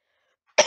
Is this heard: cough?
yes